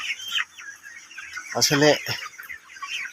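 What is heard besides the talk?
chickens clucking on a poultry farm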